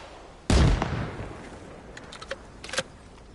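Artillery fire in Arma Reforger on Kolguyev: one heavy close blast with a rolling tail, followed by several fainter distant shots and crackling impacts.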